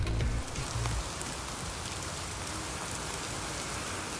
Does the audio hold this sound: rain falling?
yes